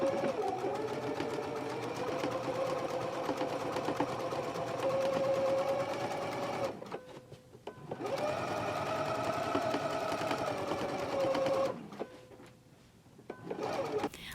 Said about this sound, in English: we're going to go to the machine and we're going to stitch right along this stitching line all the way down here to the large circle